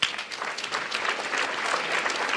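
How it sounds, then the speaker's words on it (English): An audience applauds after a talk at a community forum on trauma and healing. Many hands clap in a full, continuous burst that stays loud and steady throughout. "I love the applause"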